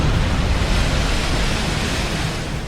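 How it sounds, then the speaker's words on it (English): Big ocean waves break with a heavy, avalanche-like roar at a crowded surf break, a dense, steady wash of surf filling the whole stretch, loud and close with no voices over it. "It feels and sounds like an avalanche when the waves break."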